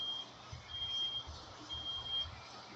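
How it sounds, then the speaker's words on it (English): A thin, steady high-pitched beeping rings on and off against a low rumble like a large truck nearby, fairly faint overall, with a continuous hum underneath and no speech. "What the freak is this beeping noise?"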